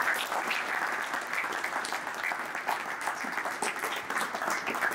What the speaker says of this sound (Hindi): तो फर्स्ट हाफ के लिए जोरदार ताली मुझे